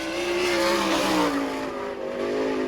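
A sprint car roars down the back straightaway at the Bechtelsville, Pennsylvania speedway during a 1999 All Star Circuit of Champions race, a loud, high engine whine that drops in pitch as it sweeps past.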